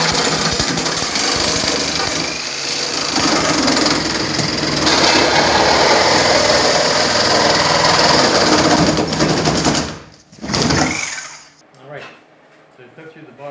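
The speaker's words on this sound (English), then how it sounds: "So I'm just going to change blades, put on a metal cutting blade, and zip through the aluminum bottom rail" A reciprocating saw fitted with a metal-cutting blade buzzes loudly and continuously through the aluminum bottom rail of a camper shell, then stops, leaving brief quieter bursts and pauses.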